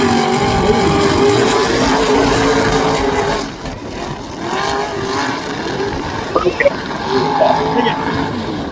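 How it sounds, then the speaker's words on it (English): Leaf-sprung race truck running on an oval track at Virginia Motor Speedway, its engine a loud steady roar that fades slightly midway then surges again, with crowd and commentary noise mixed in. "it actually showed from the outside how smooth that little leaf sprung truck really can be"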